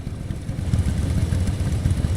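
A motorcycle engine idles in the video game Metal Gear Solid Delta, a steady low throaty rumble with slight clatter that holds evenly for the whole stretch, close and fairly loud, with no voices over it.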